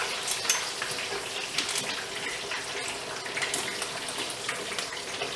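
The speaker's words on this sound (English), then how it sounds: "And it's boiling, but it's not boiling over." Steady crackling sizzle of a turkey deep frying in hot oil, dense and close, with bubbling bursts throughout and no voices.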